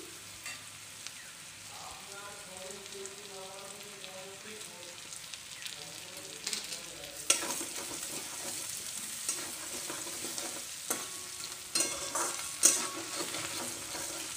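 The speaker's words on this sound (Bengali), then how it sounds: "পেঁয়াজটাকে হ্যাঁ, একটু ভালো করে ভেজে নিই আগে" Chopped onion and a green chilli frying in oil in a pan, stirred with a utensil: a quiet sizzle under repeated scraping and clinking strokes that grow busier and louder in the second half.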